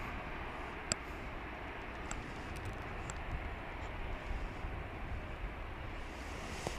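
A passenger flight from Oaxaca at DFW Airport makes a steady, even broadband roar that holds at the same level throughout, with no talk over it.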